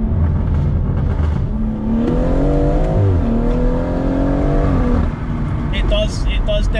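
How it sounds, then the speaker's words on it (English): A BMW M140i with its exhaust resonator deleted revs up, the engine note rising and falling in a couple of loud, close sweeps before settling back. "If you take a resonator out, it's going to sound savage."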